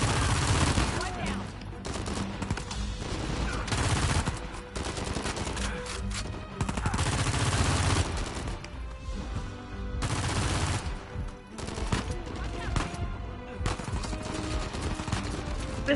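Sustained heavy gunfire in Uncharted 4, dense bursts of shots and explosions filling the scene almost without pause, with a voice talking over the combat.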